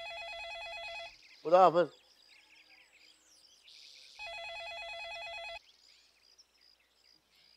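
A telephone rings in two bursts of electronic trilling tones in a home, the first stopping as a voice speaks briefly, the second after a short pause; the ringing is moderately loud and sits clear of the talk.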